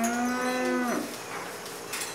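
A dairy cow moos once, a long low call lasting about a second, followed by quiet ambient background, as cows come in from the fields for milking.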